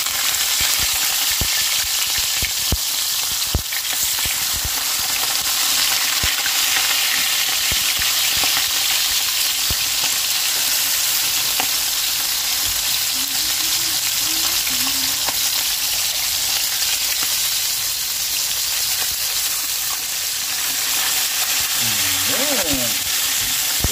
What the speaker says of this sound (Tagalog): Prituin na po natin yung ating isda.